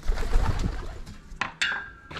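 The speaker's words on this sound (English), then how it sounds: "Hi, pigeons." Pigeons coo in short, throaty bursts, several calls spread unevenly over a couple of seconds, fairly close, with some low rustling and handling noise early on.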